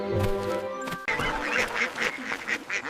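Cartoon ducks quacking on a kids' farm show, a run of short, loud, nasal calls that follow a bright tonal musical sound and repeat in a quick, uneven burst.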